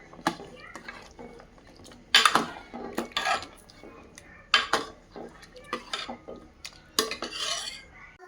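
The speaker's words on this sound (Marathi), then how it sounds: "आणि ते पटकन मिक्स करून घ्यायचं, म्हणजे ते गाठ होणार नाही।" A spoon stirs and clanks against a metal pot of mutton paya curry gravy, irregular sharp scrapes and knocks, with a voice faintly in the background.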